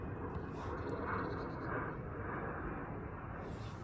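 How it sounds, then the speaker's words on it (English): A continuous broadband engine drone of a light aircraft overhead, steady and fairly loud throughout, with no talking. "let's wait for this plane, this light aircraft to pass."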